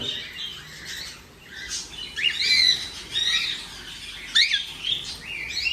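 Birds in an aviary calling with short chirps and squawks while wings flap in bursts as they fly across, fairly close and lively.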